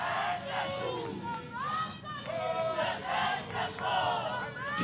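Spectators at a Region 5 Youth Games volleyball match between Malawi and Namibia roar and chant in loud waves, with shouts and whoops rising repeatedly in a large, lively indoor crowd, and a commentator's voice mixed in.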